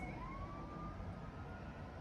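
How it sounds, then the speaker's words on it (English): An ambulance siren passes outside, a faint wailing tone rising and holding over a low, steady background hum, distant and muffled, with no voices. "All right, ambulance."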